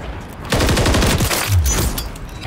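Automatic gunfire in the video game Call of Duty MW3 rips out as a loud, rapid burst of shots lasting about two seconds.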